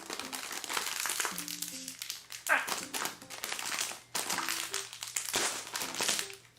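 A plastic wrapper on a Filipino snack crinkles and crackles in bursts close by as it is handled and pulled at, with a voice speaking intermittently over it.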